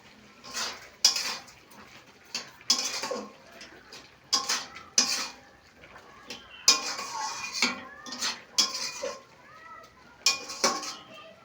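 Carrot barfi mixture stirred in a pan with a utensil, giving sharp metallic scrapes and clinks in irregular bursts, close and fairly loud against a quiet background.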